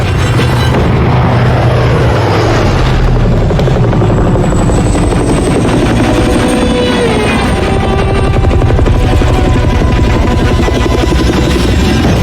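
A helicopter engine spins up in Call of Duty Modern Warfare 3, a loud, continuous turbine roar and rotor thrum with a rising whine, dense and steady throughout with no talk over it.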